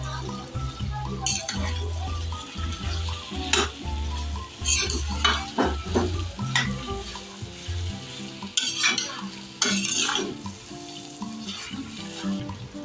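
Mashed boiled potatoes are stirred and pressed in a pan for masala dosa filling, with steady scraping and clinking of a spoon against metal amid a low sizzle, close and continuous with no voices.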